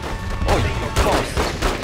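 Gunshots in The Godfather 2 video game, several loud bursts of gunfire in quick succession within a couple of seconds, dense and close.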